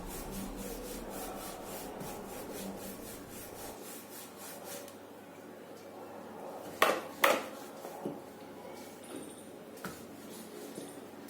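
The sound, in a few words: rolling out a paratha with a rolling pin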